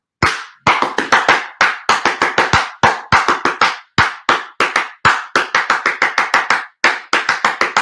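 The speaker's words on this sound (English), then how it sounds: "Clapping." A group of people clap loudly and close by in a string of quick, rhythmic bursts with short pauses between volleys, and nobody talks over it.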